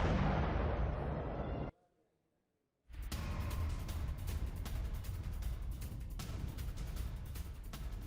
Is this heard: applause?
no